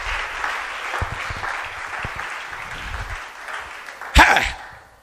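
A church congregation claps steadily during a sermon, a dense wash of applause that holds for several seconds before a single louder bump and then tapers off.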